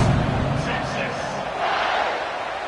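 Large stadium crowd roaring at a Georgia college football kickoff, a dense, steady wash of cheering noise throughout, with a commentator's voice over it.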